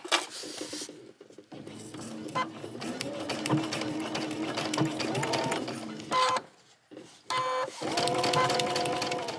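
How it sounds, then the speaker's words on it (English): A sewing machine stitches piping onto fabric in close, steady mechanical runs, its motor whirring in bursts separated by brief pauses as the stitching stops and restarts. "we are going to sew from this side right here"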